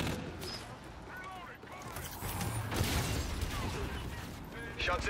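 Gunfire in Call of Duty: Infinite Warfare hardcore team deathmatch on the Breakout map, with scattered shots and bursts of game battle noise in a dense, steady mix while players talk over it.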